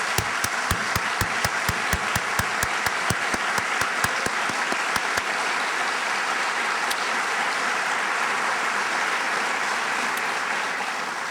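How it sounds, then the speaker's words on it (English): A university convocation audience applauds its new faculty, with loud, dense clapping and distinct close claps early on, then a broad sustained wash of applause that holds steady. "please stand and receive our applause"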